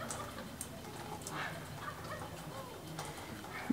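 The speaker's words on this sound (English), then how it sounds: "there are wild turkeys here. And they're going gobble gobble right now" Wild turkeys gobble from some distance near a road in a spring outdoor setting, faint and intermittent against steady ambient noise and broadband hiss.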